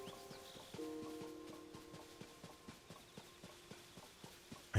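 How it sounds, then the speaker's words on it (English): Horses walking in the game Tears of the Kingdom, a quiet steady clip-clop of hooves in an even rhythm, with a soft musical tone in the background. "Those are horses."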